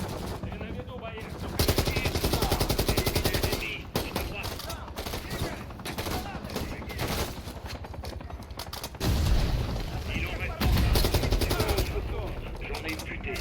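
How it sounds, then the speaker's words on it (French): Rapid automatic gunfire in the Call of Duty: Modern Warfare 3 campaign, dense sustained bursts of loud shots with brief pauses, a player speaking French faintly underneath. "J'ouvre le feu."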